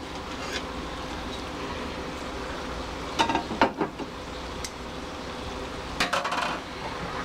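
A neoprene trivet and a chuck roast are placed into an Instant Pot. Short clusters of metallic clinks and knocks sound near two points against a quiet room hum, with no talking.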